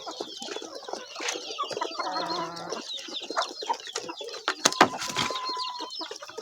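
Chickens (laying hens) cluck and chatter close by, several birds calling over one another in a busy, continuous stream.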